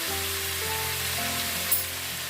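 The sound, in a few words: frying meat curry in a pan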